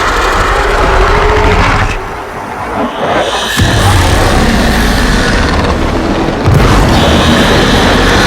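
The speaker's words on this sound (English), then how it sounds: "There should be useful detritus falling from the explosion." Explosions boom in the video game Warframe during Heart of Deimos gameplay, loud and dense, with low rumbling blasts and a sharp impact partway through over constant game noise.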